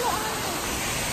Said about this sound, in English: He touches the waterfall.